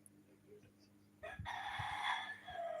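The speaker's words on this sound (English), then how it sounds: "As you hear the roosters crow, you know, giving a wake up call sound to you guys out there." Roosters crow at dawn in Kingston, Jamaica, one long loud cock-a-doodle-doo rising in the second half, with faint crowing and clucks further off before it.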